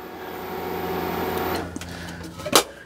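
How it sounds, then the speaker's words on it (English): A pool pump on a Hayward salt generator system hums steadily with a tonal drone, then cuts off partway through, leaving quieter room tone and a sharp click or clunk near the end. "we'll go ahead and we'll shut the pump down"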